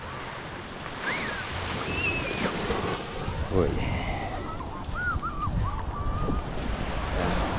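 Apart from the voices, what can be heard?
sea waves on a calm sea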